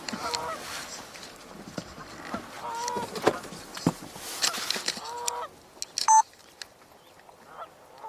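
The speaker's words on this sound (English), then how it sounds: "Goslings, cute!" Goslings calling in a group, a scatter of soft honks and peeps overlapping at close range, busy at first and thinning out toward the end.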